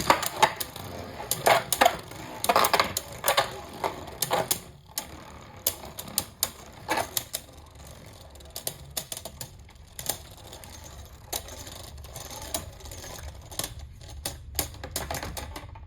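Spinning tops clash inside a battle stadium, giving irregular sharp clacks and rattles of metal and plastic tops colliding, dense at first and then thinning into scattered knocks over a faint whirring hum.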